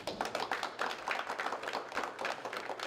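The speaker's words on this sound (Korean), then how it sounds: "모든 염원을 담아 박수로서 시작하겠습니다" Attendees clap together at a Democratic Party on-site supreme council meeting held near Panmunjom, a steady close patter of many hands filling the whole stretch.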